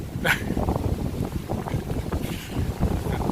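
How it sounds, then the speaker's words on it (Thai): Wind gusting into a tent at a riverside campsite where people are preparing to paddle boats, a steady broadband rush with swelling gusts and no talk. "ฟังจากเสียงลมที่เข้ามาในนี้"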